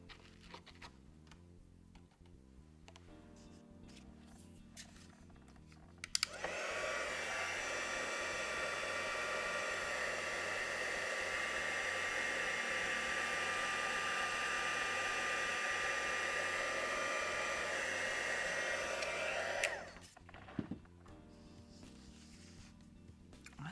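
A handheld heat tool blasts a steady, loud whooshing hum for about fourteen seconds while melting embossing powder on a stamped card, starting and stopping abruptly with quiet handling sounds before and after.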